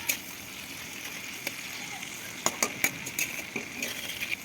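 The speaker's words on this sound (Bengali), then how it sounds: "তারপর এর উপরে একটু নুন দিলাম, নুন দিয়ে ভালো করে কষবো" Onions with salt stirred and fried in a pan for chilli egg; a soft sizzle sits under sharp intermittent spatula clicks and scrapes, growing busier toward the end.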